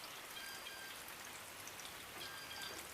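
Rain falls steadily outdoors, a dense, even hiss of drops on surfaces that keeps up without a break, fairly soft and with nobody talking.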